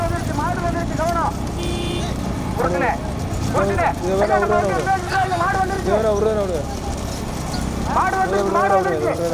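Racing bullock carts approach with rapid clattering hoofbeats and rolling wheels under loud excited shouting from a crowd and announcer, busy and continuous.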